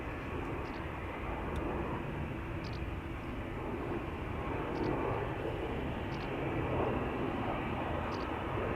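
Airliner taking off from Schiphol's Polderbaan runway, a broad steady engine roar that builds slightly over the stretch, heard from nearby with faint bird chirps above.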